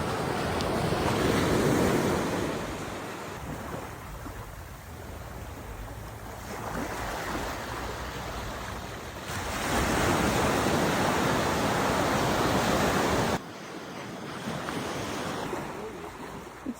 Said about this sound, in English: I wanted you guys to hear just the waves and the nature sounds in the first couple videos